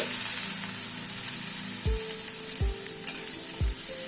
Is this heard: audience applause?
no